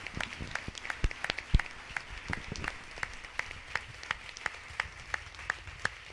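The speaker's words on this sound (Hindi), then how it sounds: "एक बार जोरदार तालियां प्रभु के लिए।" A church congregation at a Sunday service claps for the Lord, sharp individual claps standing out over a softer crowd patter, settling into a fairly regular rhythmic clapping at moderate loudness.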